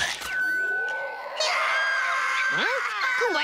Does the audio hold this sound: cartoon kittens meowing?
yes